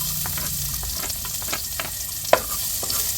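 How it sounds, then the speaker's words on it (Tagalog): Garlic sautés in a pan for ginisang togue with a steady hiss of frying, while spatula scrapes and light knocks sound throughout, one sharper clack standing out. "Tayo po yung magigisa na. Lalagay na po ni Seth yung bawang."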